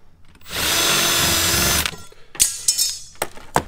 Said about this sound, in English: You can take your drill and come on this top side.